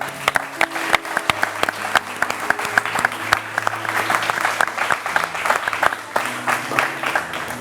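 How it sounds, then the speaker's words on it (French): Studio audience applauds steadily throughout, a dense wash of clapping with sharper individual claps standing out, loud and close, with a faint voice briefly underneath. "Ça s'applaudit."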